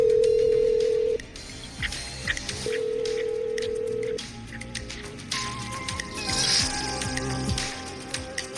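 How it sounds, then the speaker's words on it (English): Telephone handset in the Killer Frequency game, a steady dial tone broken off, then a series of short beeping dial tones as a number is keyed in, loud and close. "I'm dialing."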